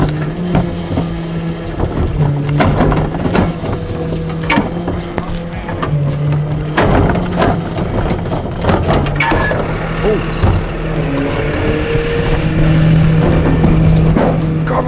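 A garbage truck's compactor and hydraulics run loudly nearby, a dense churning mechanical rumble with clanks and whines that holds steady throughout, while a voice talks intermittently.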